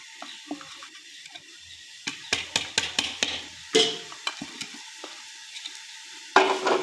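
A spoon stirs chopped capsicum, cauliflower and other vegetables in a pan, giving irregular scraping clatters and soft sizzling, some strokes louder, heard close with no talking.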